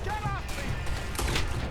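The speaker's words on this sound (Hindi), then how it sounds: "ये मुझे किधर से लग रही हैं गोलियां?" Gunfire during a shootout in the Red Dead Redemption 2 video game, a busy stretch of shots and impacts under steady game noise, with a voice talking over it.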